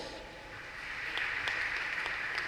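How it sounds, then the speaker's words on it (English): Congregation at the end of a National Bible Sunday Mass with Archbishop Martin S. Jumoad applauding, a soft, even clatter of clapping that swells slightly and holds steady. "let's give ourselves a big round of applause"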